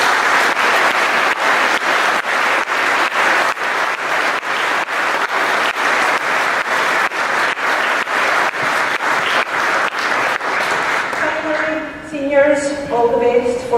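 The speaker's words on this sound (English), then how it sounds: "have supported them tonight with another round of applause." Sustained, loud applause from an audience at a school senior awards ceremony, dense clapping continuing steadily before breaking off into quieter scattered claps near the end.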